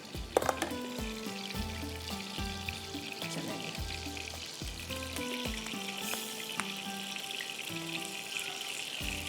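Large kebabs fry in a pan with a steady, close sizzle that runs throughout, marked by occasional clicks and light clatter of utensils and no talking.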